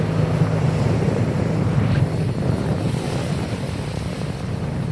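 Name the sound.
strong wind and sea waves at sea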